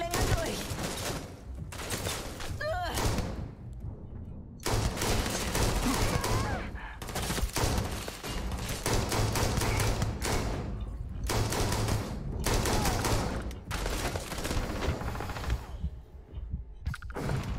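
Bursts of rapid gunfire in the video game Starfield, repeated volleys separated by brief gaps, loud and close.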